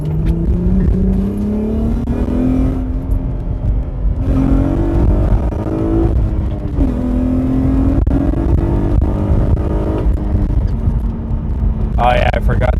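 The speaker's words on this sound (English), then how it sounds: "The engine note of this, I absolutely love the engine note" An Acura TL's dual-VTEC engine revs while driving, pulling up through the gears in repeated rising sweeps with brief drops at each shift. Someone talks over the loud, close engine note.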